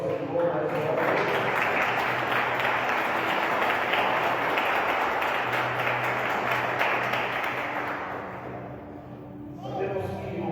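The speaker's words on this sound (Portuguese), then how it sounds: "Se você puder aplaudir ao Senhor mais uma vez." Congregation applauding in a church, a sustained, loud wash of clapping from many people that fades out near the end, with voices emerging afterward.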